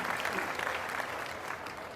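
Audience applause at a Hindi kavi sammelan poetry recital, a dense, steady clapping from a crowd filling the hall, loud and continuous throughout with no voices over it.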